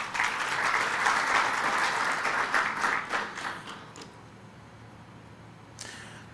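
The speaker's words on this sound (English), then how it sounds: "please just a round of applause for them" An audience at an internet conference bursts into loud applause that holds for about four seconds, then thins and fades out, with a brief final clap near the end.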